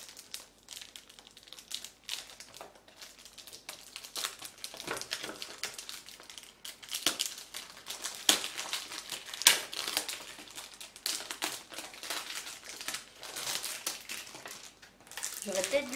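Victoria's Secret perfume packaging is unwrapped, with steady crinkling, crackling and tearing of wrapping at close range, while someone talks over the rustling.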